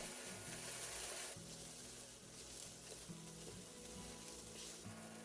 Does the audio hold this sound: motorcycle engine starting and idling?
no